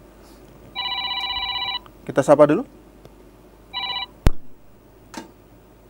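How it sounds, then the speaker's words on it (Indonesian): A telephone rings twice with an electronic trilling tone, marking an incoming call to a TV talk show studio, and someone speaks briefly between the rings. "ada telepon masuk?"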